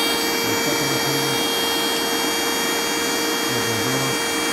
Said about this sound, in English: this is the Bingogous portable and rechargeable vacuum